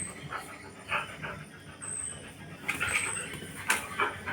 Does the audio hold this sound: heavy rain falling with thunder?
no